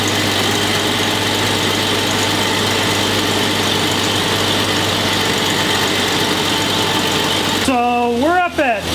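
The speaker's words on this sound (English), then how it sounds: "I'm gonna start the engine." A Jeep Cherokee engine that is slow to start runs at a loud, steady, low idle close by, then cuts off near the end as a voice starts speaking.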